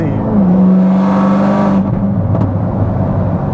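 A 900hp C7 ZR1 Corvette accelerates hard, its engine note rising loud and close before dropping off, followed by a few sharp exhaust pops and crackles as the throttle lifts.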